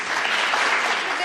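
Audience clapping at a children's drama festival, a short continuous wash of applause from the hall with a hint of voices mixed in.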